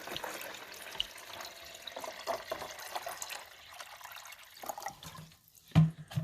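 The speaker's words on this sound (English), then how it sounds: "So you're just going to put the white vinegar back here where the water goes." White vinegar is poured into the water reservoir of a Hamilton Beach 49615C 12-cup programmable coffee maker, a continuous close splashing trickle that ends with a short clunk, with no speech.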